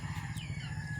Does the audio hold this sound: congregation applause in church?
no